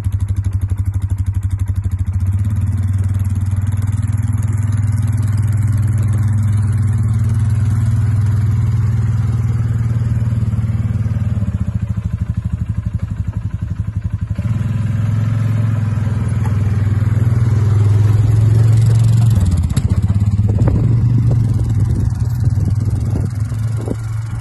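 An engine-powered vehicle idles, then moves as it is turned around and driven into a shed, a loud steady engine drone shifting in pitch, swelling briefly near the end, with faint clattering and no talk.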